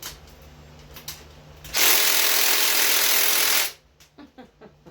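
Ratchet wrench loosening the cam retaining plate bolts on a 1977 Mopar 360 small-block engine during teardown, heard as a loud, steady two-second burst of broadband mechanical noise, then quiet with a few faint clicks.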